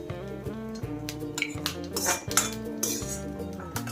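Roasted coconut being scraped and scooped out of an iron kadhai into a small bowl, a run of close metallic clanks and scrapes from a spoon against the pan, irregular and fairly sharp, with no speech.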